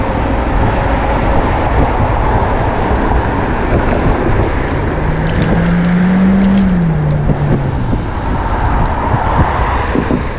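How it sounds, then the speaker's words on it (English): A car speeds past on a street, a loud, broad road roar that swells slightly near the middle and stays heavy throughout with no voices. "That car's going really fast."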